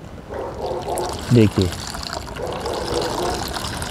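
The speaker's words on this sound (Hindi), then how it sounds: "और इसमें अब पानी मिलाएंगे" Water is poured into a homemade fertilizer mix for a dianthus plant, a soft trickling splash that runs under someone speaking Hindi, with a couple of brief thumps in the middle.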